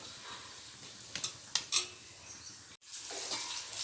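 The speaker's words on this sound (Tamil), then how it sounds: "இன்னொரு பக்கம் மீன் பொறிச்சிக்கிட்டுருக்கேன்" Fish frying in hot oil, a steady close sizzle and hiss, with a few brief clinks of a utensil partway through.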